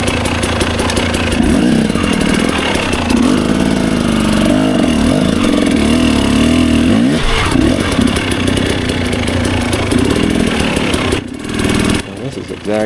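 A trials dirt bike engine climbs over rocks, revving and labouring loudly at close range with steady throttle swells, while someone talks over the noise.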